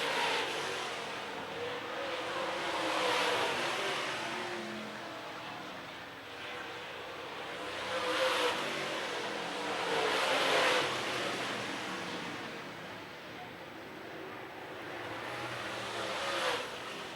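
Race cars on a racetrack during a live race broadcast, engine roar swelling and fading in several passes at a distance, with no talk over it.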